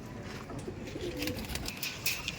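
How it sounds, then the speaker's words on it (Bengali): Pigeons in a loft of a house where old pigeons are kept, giving soft low cooing murmurs with some chirps over steady background noise, fairly close. "খুবই সুন্দর দু পিস পায়রা দু পিস নর পায়রা"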